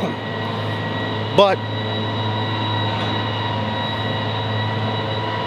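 A loud tractor working on the other side of a hill gives a steady, droning engine hum that runs unbroken throughout, with a brief spoken word near the start.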